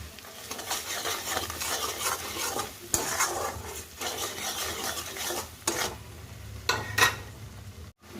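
Fried onion with ginger paste, turmeric, Kashmiri red chilli powder, cumin and salt stirred in a pan, with loud, repeated spatula scrapes against the metal over a continuous close sizzle.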